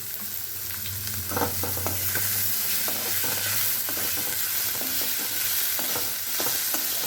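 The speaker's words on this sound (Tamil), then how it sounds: "வெங்காயத்தை நல்லா வதக்கிக்கலாம்" Onions sizzle and crackle in a hot pan over low heat for palak dal, with occasional stirring scrapes, a steady close frying hiss throughout.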